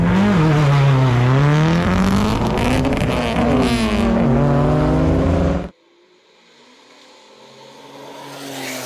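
A drag race car fitted with a custom full muffler revs hard and accelerates loudly up through several gear pulls at close range, then cuts off abruptly, leaving a faint idle and distant engine noise.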